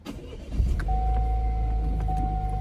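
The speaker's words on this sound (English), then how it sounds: "we're gonna start the car up and let it run" Chevrolet Camaro (2016-2020) engine starting in neutral with the parking brake set: a quick crank, then a steady close idle rumble with a faint whine running through it, no talk.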